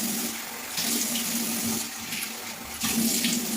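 Lukewarm tap water runs steadily into a sink while a face is rinsed, a close, continuous splashing stream with small surges as hands scoop and splash.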